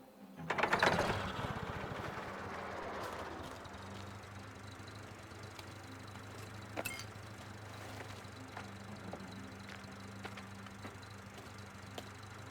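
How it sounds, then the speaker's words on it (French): An engine in a Mafia video game catches with a loud burst and then settles into a low, steady idle hum, with small clicks and knocks on top. "Je peux allumer le moteur, ça va faire une bonne diversion."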